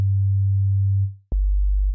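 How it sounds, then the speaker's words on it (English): Drill-style bass synth patch made with Logic Pro X stock plugins, heard alone: a deep, sustained sine-like tone holds, fades out, then drops in again with a sharp attack and slides lower. "And our bass will sound like this."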